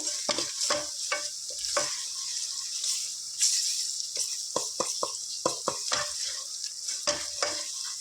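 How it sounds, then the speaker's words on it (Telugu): Mutton pieces with ginger garlic paste fry in a hot pan, a steady sizzle broken by repeated scraping strokes of a spoon stirring the mixture, close and fairly loud with no talking. "అల్లం వెల్లుల్లి పేస్ట్ పచ్చివాసన పోయేంత వరకు చక్కగా ఫ్రై చేసుకోవాలి"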